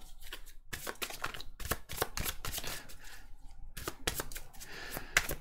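Oracle cards are shuffled and drawn for a tarot-style reading, a steady run of papery riffles and slaps that carries on throughout, close and fairly loud.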